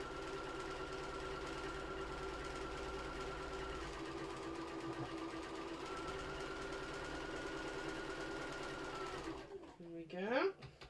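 A domestic sewing machine stitches steadily and continuously along parallel drawn lines on a fabric Easter bunny bag, a close, even mechanical whir under occasional talk, ending with a short burst of back-stitching.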